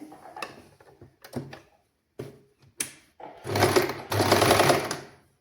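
A sewing machine stitches folded fabric lining in a tailoring class. Short, clicking starts are followed by two longer bursts of fast, whirring stitching, with quiet gaps between them.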